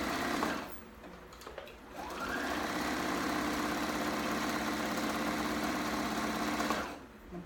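A sewing machine stitches a dress, giving a steady, close, rapid whirring run of about five seconds after a brief start, then stopping.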